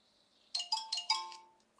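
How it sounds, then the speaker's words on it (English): A mobile phone ringtone goes off indoors during a paper lunch-sack craft session, a quick burst of four bright melodic chime tones followed by a trailing note, fairly faint and alone. "I thought I had my phone on"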